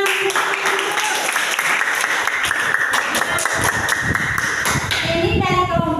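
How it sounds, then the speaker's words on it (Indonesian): Classroom group applauds, a loud, rapid patter of close clapping that fills the room and continues steadily, with voices faintly underneath and a brief tonal sound near the end. "kita beri tepuk tangan"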